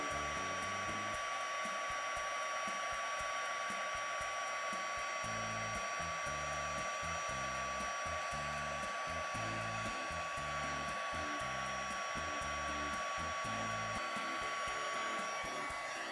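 Heat embossing tool blowing hot air over cardstock, a continuous close-up whirring blast with a steady high whine, joined by soft rhythmic thumping handling noises.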